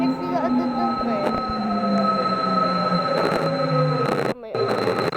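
An LRT Line 2 train at Araneta Center Cubao station rumbles and squeals steadily, with a bell or chime ringing out and the clatter of the railcars filling the station.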